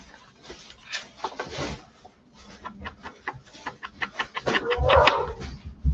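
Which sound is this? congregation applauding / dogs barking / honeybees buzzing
dogs barking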